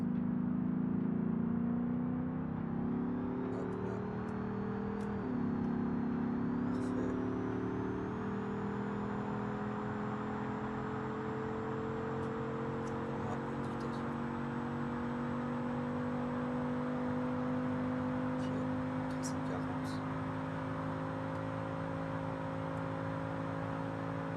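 Engine of a car in BeamNG.drive pushing toward 400 km/h, a steady loud whine that climbs through gear changes early on, then holds a high sustained drone, with a few faint clicks on top.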